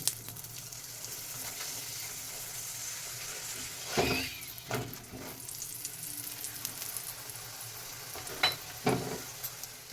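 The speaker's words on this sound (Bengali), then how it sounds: "এবার আমি ঘি দিয়ে ভেজে নেব আমি ঘি দিয়ে ভাজছি" Aloo palak paratha frying in ghee, a continuous crackling sizzle close up, with a few louder bursts of spitting and stirring.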